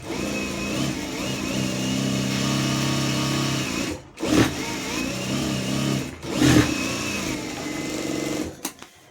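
Sewing machine stitching cloth on a hand seam, a close, loud, steady mechanical whir running in long bursts, stopping briefly around four and six seconds before restarting, with no talk.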